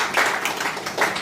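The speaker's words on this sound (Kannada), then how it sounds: "ಚಪ್ಪಾಳೆ ಹಾಕಿದರು." Audience clapping at an honoring banquet, a short burst of steady applause from a group, close and moderately loud.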